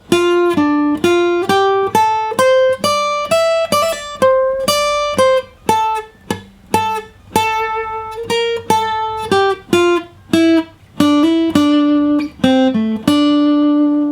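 An acoustic guitar plays the slow single-note melody of an unplugged solo, each plucked note ringing clearly and separately, sometimes pausing between phrases, with no voices.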